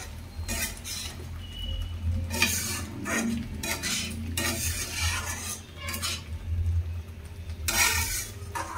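Chicken for butter chicken stirred in a pan, with repeated bursts of spoon scraping and clinking against the metal over a low sizzle, no talking.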